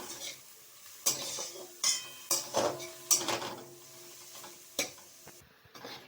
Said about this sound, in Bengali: আমি চিনি দিলাম, সামান্য একটু দিয়ে এই শাকটা ভালো করে ভাজতে হবে।